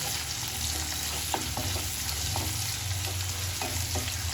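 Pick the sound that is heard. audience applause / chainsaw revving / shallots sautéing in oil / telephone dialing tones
shallots sautéing in oil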